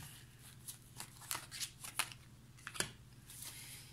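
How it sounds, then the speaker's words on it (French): Tarot cards being handled and covered over, soft scattered card slides and taps with a few sharper flicks, close and quiet over a faint steady hum, no talking. "Je vais recouvrir les cartes."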